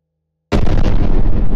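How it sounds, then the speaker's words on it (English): A massive explosion from an orbital cannon striking three dreadnoughts in the building game Brick Rigs bursts in after half a second of silence, then roars on as a loud, dense, sustained blast with no talking. "Let's look at the explosion."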